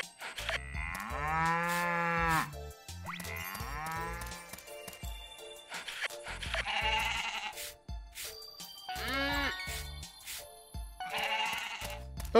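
Several drawn-out cow moos from Story of Seasons: Pioneers of Olive Town, a few separate calls spaced across the stretch, fairly loud and close, with soft game sounds between them and no talking.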